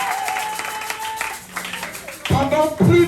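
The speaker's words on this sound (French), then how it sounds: "Acclamons très fort pour Dieu" A church congregation clapping loudly together, the applause bursting in and swelling toward the end over a background of voices.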